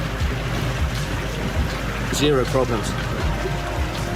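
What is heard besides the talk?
rigid inflatable boat running at 2-3 knots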